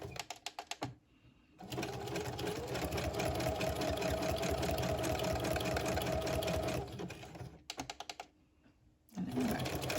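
Sewing machine stitching a zigzag onto a paper tag, a steady close whirring run of about five seconds between short stop-start bursts, with no talking.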